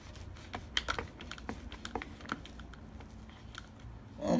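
A knife cutting through a loaf of homemade peanut butter bread, a series of soft, irregular crunchy scrapes and crackles, close and fairly quiet, ending with a brief louder rustle.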